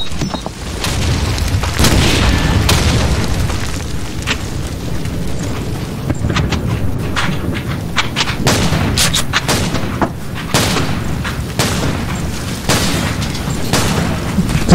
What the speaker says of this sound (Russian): Граната! Я ухожу!